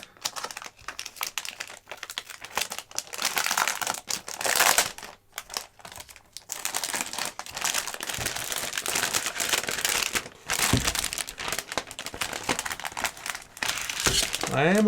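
The packaging of a Logitech G413 Carbon keyboard is pulled off and unwrapped, with loud plastic crinkling and rustling in bursts and brief pauses, and a few soft handling taps.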